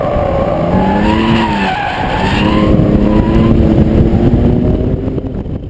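A BMW M3 in Sport Plus mode accelerating hard, its engine note rising and falling through the revs with some tyre noise, loud and close, with no talk.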